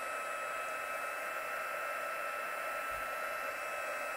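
A heat tool melts clear embossing powder over a stamped watercolour card, giving a steady, loud, close blowing hiss like a hair dryer that runs without a break, with no talk.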